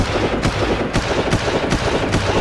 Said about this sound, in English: I love how all these shots are missing.